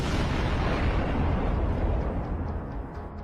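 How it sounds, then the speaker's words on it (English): A motorbike setting off a landmine in frontline combat in Ukraine, heard as a loud, dense, continuous roar of blast rumble that stays heavy throughout and fades slightly at the end, with no voices. "the bike hit a mine, triggering a massive explosion and instantly destroying it"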